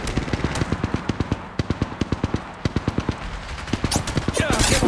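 Automatic weapon fire from the mobile shooter Apex Legends Mobile rattles in rapid, evenly spaced bursts, loud and close, with brief pauses between volleys and a denser rush of noise near the end.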